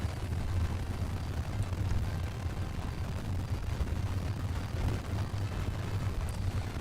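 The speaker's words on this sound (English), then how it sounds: "Those are in-game fireworks." In-game fireworks show in a video game, with a continuous dense rumble of booms and crackles layered together at moderate, steady loudness, with no voices.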